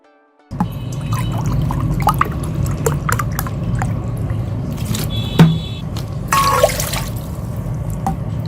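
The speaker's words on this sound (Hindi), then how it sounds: "वन एंड हाफ कप जो है पानी वो मैं इसके बीच में डाल लूंगी" One and a half cups of water poured into a pot for boiling orange peels in a home kitchen, a steady splashing pour with scattered drips and small clinks, close and fairly loud.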